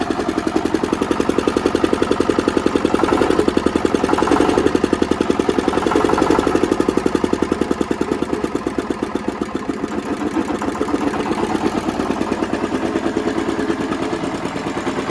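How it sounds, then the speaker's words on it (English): A small Fairman diesel engine runs steadily at a quick, even chugging pace on a shop floor, loud and close, without pause from start to finish. "It's a good running little engine, dancing all over the shop floor here"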